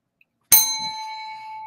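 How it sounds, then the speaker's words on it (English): A bright notification bell ding strikes once, sharp and loud, then rings out with a long sustained tone that slowly fades, alone with no talk. "make sure you trigger that bell."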